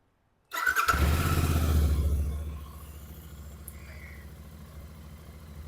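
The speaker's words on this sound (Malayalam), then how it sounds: "ഞാൻ ജസ്റ്റ് ഒന്ന് വണ്ടി സ്റ്റാർട്ട് ചെയ്തിട്ട് നിങ്ങൾക്ക് കാണിച്ചു തരാം" A Royal Enfield Bear 650 motorcycle starts up close by with a sudden loud crank and catch, revs briefly, then settles into a lower, even idle.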